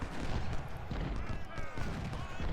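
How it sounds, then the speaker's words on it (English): Cannon and musket fire from the Civil War strategy game Ultimate General: Civil War: a steady, loud wash of battle noise with rolling shots throughout, and a voice talking quietly underneath. "Looks like they have cannon fire back here somewhere."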